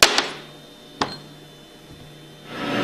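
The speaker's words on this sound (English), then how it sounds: "tap it out with a hammer" Sharp metallic hammer taps knocking a seal out of a roller pump casing, a quick pair and then a single strike a second later, ringing briefly in a quiet room.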